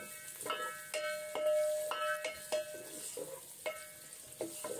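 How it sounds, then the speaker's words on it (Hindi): Onion frying in oil in a pot gives a steady soft sizzle close by, broken by several sharp scraping and stirring strokes at an irregular rhythm, with no one talking. "इस पॉइंट पे हमारा अनियन तकरीबन फ्राई हो चुका था"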